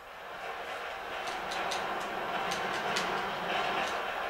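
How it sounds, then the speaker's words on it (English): A train passes in the video game GTA V Online as a steady, loud rumbling roar with rhythmic clacks, building slightly and holding throughout. "There's a fucking train beside you."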